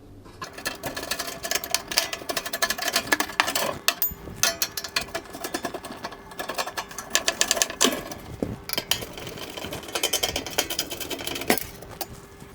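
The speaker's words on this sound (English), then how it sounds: "So that's all the screws removed." Screws come out of the rear shroud of a fan oven, a close run of quick whirring and clicking bursts from a screwdriver with small metallic ticks between them, no talking.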